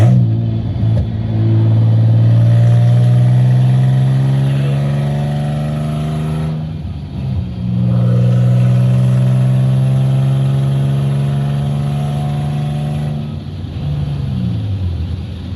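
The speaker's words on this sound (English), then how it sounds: "Pretty gnarly exhaust leak." A car engine with a bad exhaust leak rumbles loudly in steady droning passes, revving and easing back twice with brief dips between, close up and with no talking.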